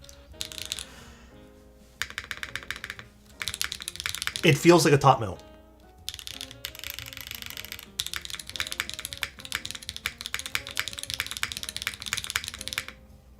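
Typing on a Paper65 mechanical keyboard, with bursts of fast, crisp key clacks separated by short pauses and someone talking in between.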